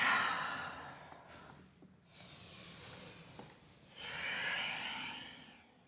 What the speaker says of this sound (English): let's take 2 more breaths here